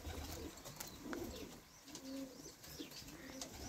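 Young carrier pigeons cooing softly, a few low coos over a faint, noisy outdoor background.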